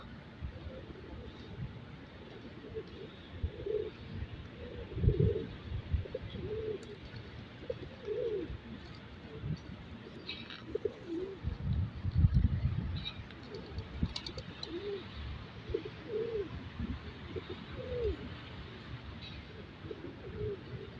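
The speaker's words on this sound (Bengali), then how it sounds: "একসাথে এতগুলো কবুতর আমি আসলে দেখিই নেই এই জায়গায় দেখলাম" Hundreds of pigeons in Saudi Arabia coo in soft, repeated low burbles close by, with faint rustling and background noise throughout.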